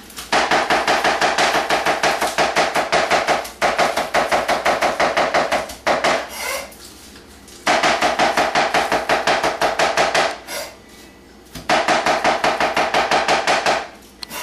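Green onions chopped on a cutting board, fast continuous knife taps in long loud bursts separated by brief pauses and a little scraping, with no talking.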